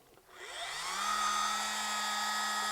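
A rotary polisher spins up from rest on an electric guitar body and settles into a steady, close whine at a slow speed of about 2500 RPM, running alone without talk.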